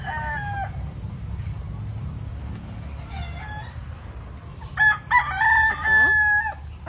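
Chickens cluck softly in a farm's breeding area, then a rooster crows loudly near the end, with more clucking and low background rumble.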